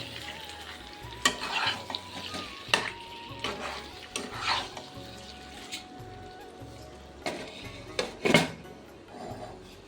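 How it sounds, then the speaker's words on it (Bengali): Chicken and potatoes sautéed in a pan give a steady sizzle, broken by repeated scraping stirs and a few sharp utensil clacks against the metal, close and moderately loud, with no voices. "এবার আমি কষাচ্ছি।"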